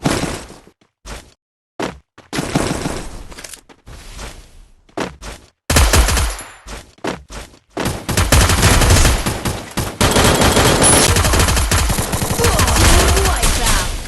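Gunfire in the Free Fire battle royale game, sharp bursts of automatic shots in short clusters at first, then sustained heavy rapid fire, loud and close.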